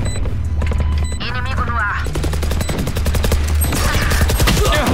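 Rapid automatic gunfire from a Valorant match, dense vertical bursts throughout, layered with game effects and continuous in-game music or ambience, with players talking over it.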